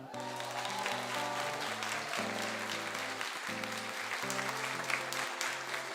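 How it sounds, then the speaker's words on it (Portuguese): A church congregation applauding during a sermon, the steady clapping heard under sustained organ or keyboard chords that play throughout. "Pode aplaudir."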